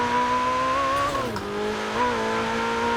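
Ferrari 488 Pista in Forza Horizon 4, a steady droning engine and intake tone from the hood view, pitch briefly sagging and rising again, loud and continuous with no talk.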